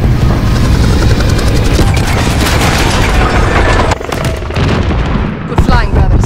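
A loud, booming explosion as a helicopter crashes in Call of Duty: Modern Warfare, amid a roaring rotor and rattling debris, dense and close, with a voice briefly heard over the chaos.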